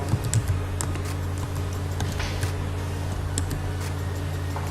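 Computer keyboard typing while a file name is entered, a run of quick light key clicks in an uneven rhythm, close and clear over a low steady room hum.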